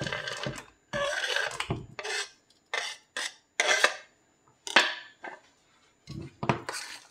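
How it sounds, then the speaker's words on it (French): Chocolate chips being stirred into batter, a series of short, close scraping and rubbing strokes of a utensil against a bowl, separated by brief pauses. "Donc ensuite, je rajoute mes petites pépites dans ma préparation."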